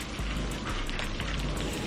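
Steady rain pours down in a Hindi cartoon story, a dense, even hiss of drops hitting a surface with faint low rumbles beneath, continuous and close, with no voices.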